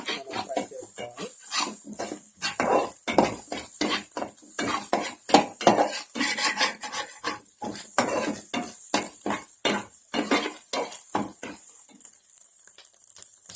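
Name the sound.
chopped carrot and cabbage being stir-fried in a pan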